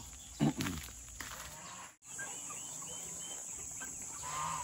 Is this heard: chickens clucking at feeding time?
yes